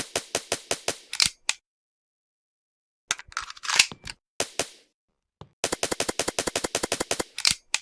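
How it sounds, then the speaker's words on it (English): MP5 submachine gun in a Roblox co-op zombie game firing in rapid automatic bursts, crisp close shots in quick even rhythm separated by a silent gap and a few scattered single sounds, no talking. "Another gun is an MP5, submachine gun with high DPS in close range"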